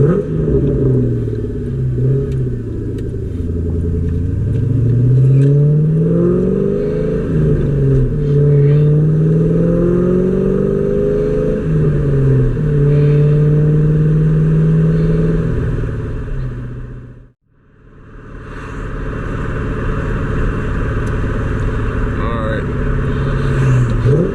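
A 1999-2004 Ford Mustang GT New Edge V8 heard from inside while driving, its engine droning and rising and falling through gears, with one abrupt cut in power near the end before it picks back up.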